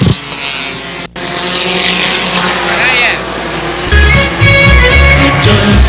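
Short-track race cars come off turn 4 and roar down the final stretch, a loud continuous engine snarl with rising whine and a brief dropout, then a deeper rumble as more cars pass close by.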